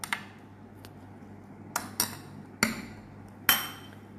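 A tindora (ivy gourd) salad is tossed with salt in a bowl, giving a handful of sharp, close clinks of a utensil against the dish at irregular intervals over near silence.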